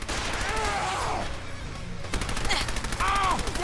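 Close-range gunfire in Fallout 4 crackles in loud bursts, a rapid volley at the start and another after a short pause, ringing against the game's ambient noise.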